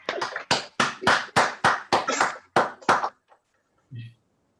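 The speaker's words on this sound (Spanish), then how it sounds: "Y un fuerte aplauso." Audience applause at an online conference talk on 3D documentation of castles, heard as about ten crisp, evenly spaced hand claps over three seconds before it falls quiet, with a faint tap afterwards.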